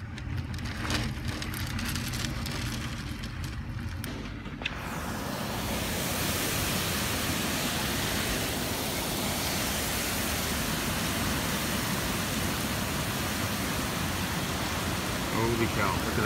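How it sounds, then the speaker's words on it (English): Loud, steady rush of water gushing out of a gutter during Typhoon Jebi in Japan starts a few seconds in and continues without a break, close and enveloping. "You see water gushing out of that gutter?"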